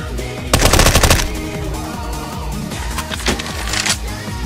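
Rapid automatic gunfire bursts loud and close in Counter-Strike: Global Offensive, a dense volley early on followed by shorter bursts and mechanical clicks and clatter against a busy game soundscape.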